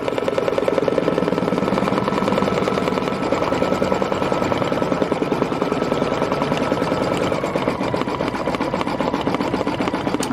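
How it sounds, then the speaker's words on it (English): An embroidery sewing machine stitches a satin stitch, a fast, steady mechanical chatter of needle strokes running loud and unbroken from start to finish with no talk. "Now we're going to do the satin stitch"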